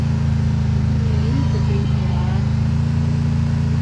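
A car engine in the video game Free Fire drones steadily and loudly, a constant low hum that holds without change for a few seconds.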